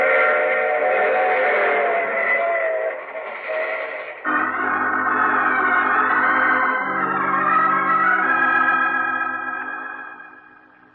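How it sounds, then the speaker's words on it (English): A train in an old time radio drama, a loud wailing whistle-like tone that sustains, then shifts into lower rumbling, chugging sound with layered pitched tones before fading out at the end. "I take this same train every week at this same time."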